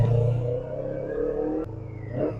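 A motorcycle fitted with an Akrapovic exhaust, currently with its silencer insert in, revs in Istanbul traffic; a steady, close engine drone rises and falls with a brief blip near the end.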